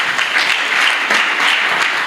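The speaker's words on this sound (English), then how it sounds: "Please, a round of applause for her." Steady, loud applause from a university conference audience at an IT and travel federation event, continuous and evenly dense throughout.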